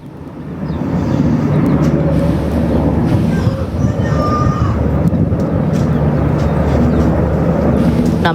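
A US Black Hawk helicopter and a C-130 Hercules aircraft fly overhead on a search operation, making a loud, continuous low engine roar that swells in and holds steady throughout.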